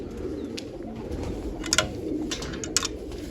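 Pigeons in a loft feeding their young coo in a close, continuous low warble, with a few sharp clicks and rustles breaking through near the end.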